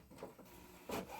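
A Canon TC-20 24-inch wide-format printer runs a print pass, its carriage giving soft mechanical swishes and a louder whirring sweep near the end over a low, steady hum. The sound is faint and close, with no speech.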